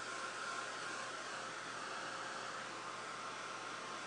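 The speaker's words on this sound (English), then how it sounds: "I'll just give this another quick shot with the heat tool." A heat tool blows hot air over a canvas being worked with Dylusions products, giving a continuous even whoosh of blowing air, close and steady with no talking.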